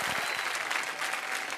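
An audience applauds the winner of a ten-day trip for two to the Seychelles at a prize draw: a brief, dense burst of clapping, steady and fairly loud throughout.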